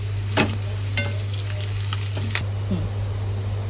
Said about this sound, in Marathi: आता इथं सुको खोबरं टाकूया आणि थोडीशी कोथिंबीर टाकूया थोडं परतून घेऊया परत लाल होईपर्यंत